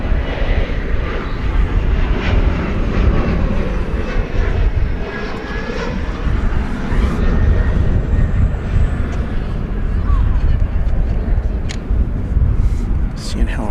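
A departing airliner bound for Rome roars steadily as it takes off at a busy airport, the loud, continuous engine noise filling the scene while a voice talks over it.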